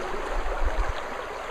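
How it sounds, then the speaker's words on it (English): A small brook in Auburn, California babbles steadily outdoors, a soft continuous wash of flowing water with a faint low rumble, heard alone without voices. "Here's the brook."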